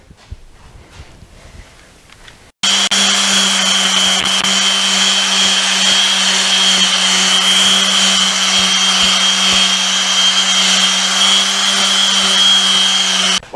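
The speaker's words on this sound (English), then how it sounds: "Okay, let's sand this thing down." A power sander starts up abruptly on an oak rocking chair and runs loud and steady from close by, a continuous whine with a constant hum underneath, after a few seconds of quiet shop noise.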